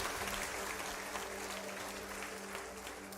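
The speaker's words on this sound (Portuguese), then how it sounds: "Dê um aplauso bem forte assim" A church congregation applauding loudly at a sermon, a dense, continuous wash of clapping that holds steady throughout without talk.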